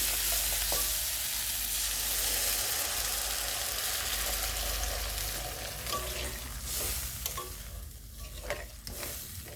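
Water goes into a pan of potatoes frying with spices, and a loud hiss fades into steady bubbling as a spoon scrapes and stirs, with irregular clinks toward the end.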